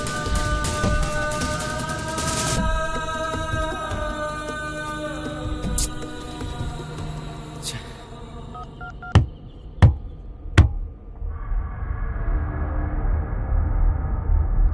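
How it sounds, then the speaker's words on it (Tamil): Three sharp knocks, close together and loud, come from the spare tyre at the back of a car in a thriller film scene. They cut in over a steady bed of tonal background music. "பின்னாடி ஸ்டெப்னிலேருந்து சத்தம் வந்திருக்கும்."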